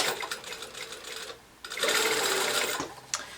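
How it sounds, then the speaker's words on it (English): A sewing machine runs at a steady whir while stitching a sleeve seam on a garment, with a brief pause near the middle before it resumes at full speed, close and clear. "so I'm just gonna sew like normal"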